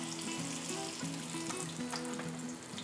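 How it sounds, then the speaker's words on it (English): Rolled oyster packets dropped into hot grease sizzle and fry steadily, a dense, even crackle that stays close and continuous throughout. "we're just gonna take our little oyster packets and ever so carefully drop them into the grease"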